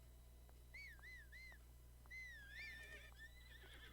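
A horse in the video game Zelda: Breath of the Wild whinnies in rising and falling squeals that repeat across several seconds over a low steady hum, with faint soft thuds underneath.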